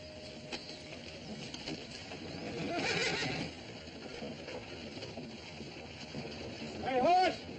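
A horse whinnies briefly near the end of a busy outdoor scene with steady background noise and some murmuring, the neigh short and fairly loud.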